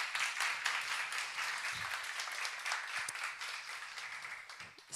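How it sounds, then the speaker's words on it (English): Applause from an audience at a deep tech accelerator demo day, a dense, steady wash of clapping that carries on throughout the clip and fades slightly near its end. "that's a big round of applause for all of you for being here today"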